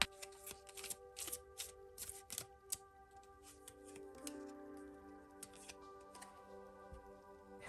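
Tarot cards shuffled in quick, repeated riffling bursts, crisp and close, with a soft steady musical drone underneath and a pause in the middle before the shuffling resumes.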